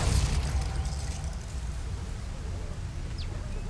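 Glacius freezing spell cast in the video game Hogwarts Legacy: a burst of noise at the start that settles into a sustained icy crackling hiss, with a faint chirp near the end.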